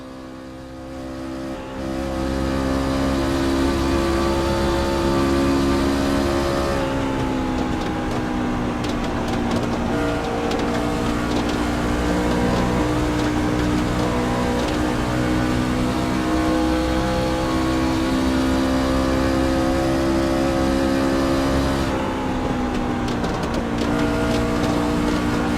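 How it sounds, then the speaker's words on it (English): Engine of a stock-car racing truck at Kentucky, heard from inside the cab in a racing simulator game, a loud steady drone with a high whine that holds at full throttle and shifts pitch slightly as the truck circles the track. "show you guys how loud it actually is inside these trucks here in the iRacing simulator"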